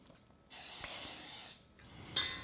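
Pam cooking spray hissing from the can onto shrimp in a serving bowl, one steady spray of about a second, then a shorter faint burst, close and soft.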